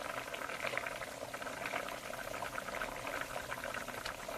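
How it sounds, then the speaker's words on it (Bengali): A pot of Bengali shrimp and fish curry bubbles steadily on the stove, a continuous close hiss of simmering liquid without pauses and with no one speaking. "ফুটে উঠেছে, এইবারে মাছগুলো দিয়ে দেবো। মাছের ঝোলটা হয়ে এসেছে"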